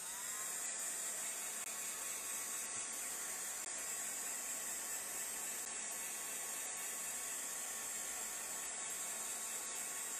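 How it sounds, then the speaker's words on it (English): Heat gun blowing steadily, a constant faint airy hiss, close and unbroken throughout. "Then let me get my heat gun."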